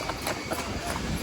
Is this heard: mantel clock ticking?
no